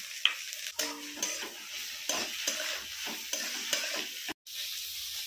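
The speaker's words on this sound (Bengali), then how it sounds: "পেঁয়াজটা ভেজে নিচ্ছি।" Chopped onion sizzles steadily in hot oil in a wok while a spatula stirs and scrapes in repeated strokes, close and fairly loud, ending with a short break in the sound.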